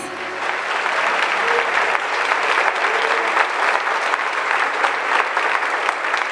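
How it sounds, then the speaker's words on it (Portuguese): Church congregation at a Christmas service claps in a long, even round of applause, many hands blending into a steady roar that fills the room without pause. "Vamos dar uma salva de palmas para Jesus?"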